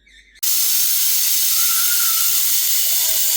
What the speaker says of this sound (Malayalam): ഇപ്പോൾ 2 വിസിൽ വന്നിട്ടുണ്ട്.